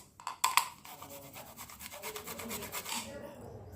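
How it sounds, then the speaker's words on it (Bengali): A tomato is rubbed against a vegetable grater in quick, close, raspy strokes, preceded by a few sharp clicks. "এবার আমি টমেটোটাকেও গ্রেট করে নেবো।"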